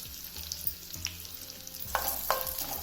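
Asafoetida tempering for katte pongal fries in hot oil, a steady close sizzle with scrapes and clinks from stirring, and no voices.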